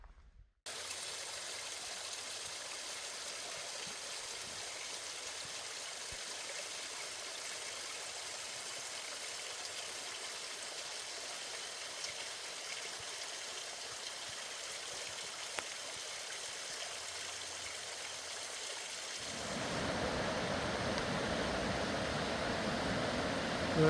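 A creek flowing in steady, broadband wash beside a trail on Storey Burn toward Elk Creek, constant and fairly close, with the water noise growing louder and fuller near the end as the listener moves nearer.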